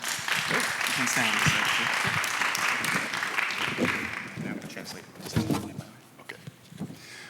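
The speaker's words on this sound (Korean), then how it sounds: "우리 박수로 환영하겠습니다" A church congregation applauding to welcome a guest speaker at a Sunday service, steady clapping that swells early then tapers off, with voices talking over and after it.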